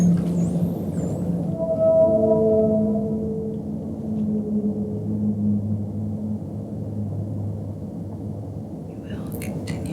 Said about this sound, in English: That's the humpback whale.